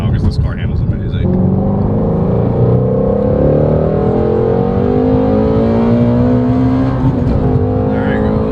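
A Shelby GT350's engine revs and accelerates steadily at full throttle, its pitch climbing over several seconds, loud and close with some talking underneath.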